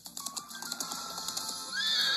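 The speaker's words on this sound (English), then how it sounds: "A horse comes up." A horse neighing after quick clip-clop hoofbeats, the whinny rising at the end over a bright, busy background, fairly faint and with no talk.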